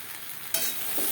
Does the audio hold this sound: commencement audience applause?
no